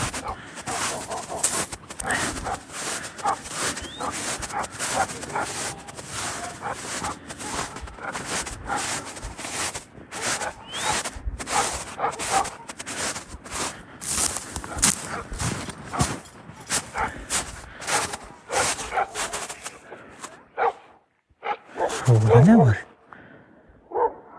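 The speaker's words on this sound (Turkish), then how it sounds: "Ama köpek sesleri geliyor." Dogs barking repeatedly at a distance, with people talking in the foreground over much of it and a louder burst near the end.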